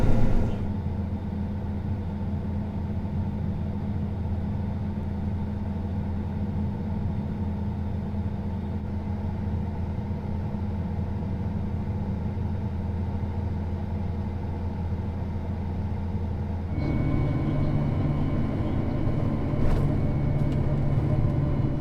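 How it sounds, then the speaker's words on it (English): A farm vehicle's engine drones steadily while driving back to the farm, a loud, unbroken rumble that shifts to a rougher, slightly louder pitch near the end. "so we just drive back instead of bring the service truck out"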